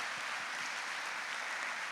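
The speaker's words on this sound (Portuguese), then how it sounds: "as palmas agradam, louvam, exaltam o nome de Jesus" A church congregation claps together in a dense, steady wash of applause that continues evenly from start to finish.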